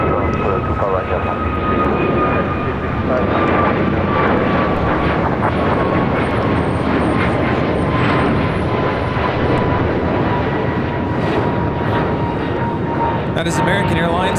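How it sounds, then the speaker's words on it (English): An American Airlines A321neo jet takes off at LAX, a loud sustained roar of jet engines with a steady broadband rush and whine that stays strong throughout, with radio chatter and voices heard over it. "That is American Airlines 265 taking off to Luhui on an A321neo."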